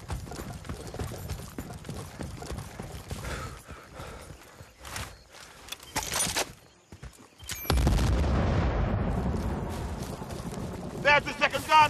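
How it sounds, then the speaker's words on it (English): Battlefield: Bad Company gameplay with a C4 charge going off in a heavy, rumbling blast that swells and lingers, preceded by choppy gunfire and battle noise, with voices shouting over the action. "Use the C4 and blow up those guns now!"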